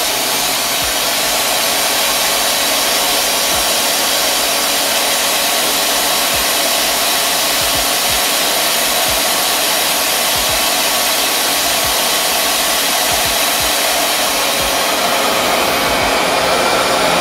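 A RevAir reverse-air hair dryer runs on its lowest heat setting over natural 4b/4c hair, a loud, steady, continuous whooshing roar with faint low flutters. It lasts the whole stretch with no one speaking.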